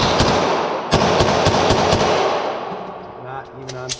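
Rapid strings of sharp, loud HK VP9L pistol shots crack close by at a shooting range, several in quick succession with brief pauses, followed by a voice speaking near the end.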